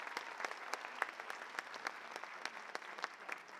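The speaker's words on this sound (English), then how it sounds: "let's give our judges a round of applause as well" Scattered applause for the judges at a judged competition, a thin spread of individual claps with sharp accents, fairly quiet and distant-sounding, with no talk over it.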